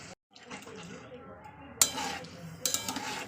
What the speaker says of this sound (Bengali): তো দিয়ে দিচ্ছি জল এক কাপ পরিমাণ দিয়ে দিলাম